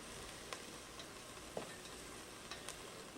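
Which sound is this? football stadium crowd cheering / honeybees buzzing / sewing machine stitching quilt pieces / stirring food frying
stirring food frying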